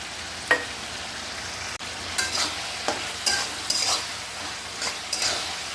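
Onion, tomato, capsicum and green chilies stir-fried in a pan into a masala: a continuous sizzle broken by repeated scraping strokes of a spatula against the pan, close and fairly loud, with no talking.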